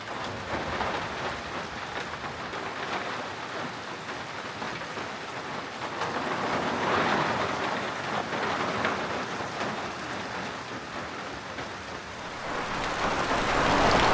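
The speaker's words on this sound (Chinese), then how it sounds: "那些外面啊，狂风暴雨" Heavy rain pours outside an old house in the mountains during a storm, a dense, steady hiss of drops on surfaces swelling slightly louder at moments, with no voices.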